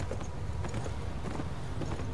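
A horse gallops in Beyond: Two Souls, its hooves drumming in a quick, steady rhythm close by, loud and continuous across a couple of seconds with no talk.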